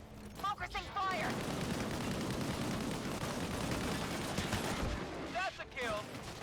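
Gunfire and explosive combat noise in the video game Disintegration, a loud, sustained rumble of shots and blasts, with brief voices at the start and near the end.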